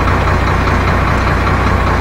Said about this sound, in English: The engine sound, that's okay, but it just sometimes revs weirdly.